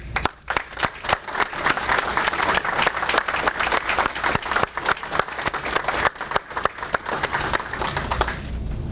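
At a dedication ceremony for a family resource center, an audience breaks into sustained applause, many hands clapping in a dense, lively patter that holds steady for several seconds before easing off.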